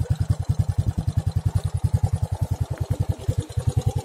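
A Kawasaki Edge motorcycle idling through its exhaust, a steady loud pulsing thump in an even rhythm, recorded close to the tailpipe with no talk.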